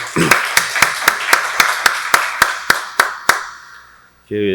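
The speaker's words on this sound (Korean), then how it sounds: "박수로 하나님께 영광 돌리겠습니다" Church congregation at a Sunday worship service clapping in unison, about a dozen sharp, evenly spaced claps that fade slightly before a voice comes in at the end.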